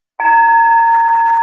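A single meditation bell is struck once, its clear tone ringing out steadily and sustaining without fading, alone with no voices.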